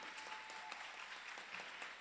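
Soft, steady applause from a graduation ceremony audience, many hands clapping evenly at a distance and fairly faint for two seconds.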